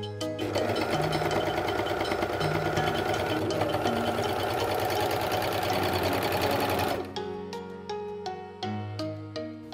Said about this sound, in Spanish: Bajamos el prensatelas y simplemente seguí cosiendo.